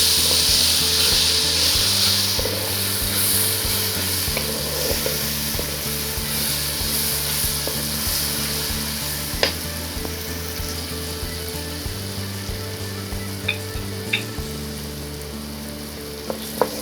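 A garlic, ginger and green chili paste sizzles loudly in a hot pan under a constant frying hiss, with occasional clicks and scrapes from stirring.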